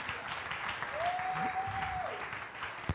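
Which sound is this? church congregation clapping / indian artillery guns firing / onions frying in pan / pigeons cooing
church congregation clapping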